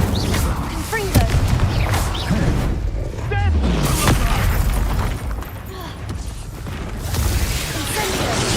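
Confringo explosive spell blasts in the video game Hogwarts Legacy, with repeated booming bursts and crashes amid dense combat effects and a chanting voice, loud throughout.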